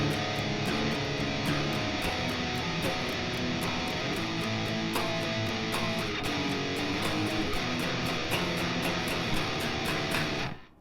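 A driving electric guitar riff from the final chorus of a song, with rapid, steady strummed chords, bright and continuous for about ten seconds before stopping abruptly at the end.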